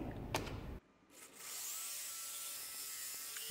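A jigsaw whines steadily through a pallet-wood board after a short pause, a continuous high buzzing cut at close range.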